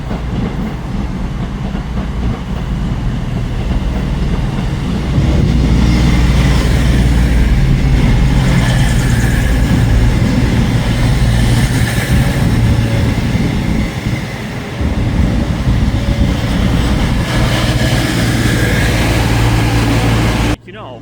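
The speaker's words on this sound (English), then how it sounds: "here comes my favourite train that comes through Stockport" A Cross Country Voyager diesel train runs through Stockport station, a loud sustained engine roar with rumbling wheels that holds steady for about twenty seconds before cutting off abruptly.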